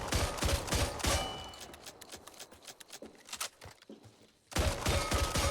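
Rapid shotgun blasts from a Super 90 in the game Back 4 Blood, dense bursts of repeated shots at the start and end with scattered quieter clatter between them.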